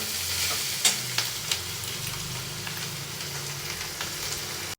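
Chicken keema masala sizzles in a pan while being stirred, a continuous frying hiss broken by a few sharp spatula scrapes and clacks, close and alone without talk.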